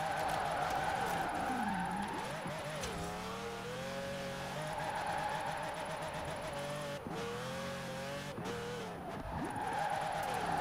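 A stock Ferrari 599 in a Formula Drift racing game screams through a drift, its engine revving up and down continuously with repeated gear shifts and tire squeal, loud throughout.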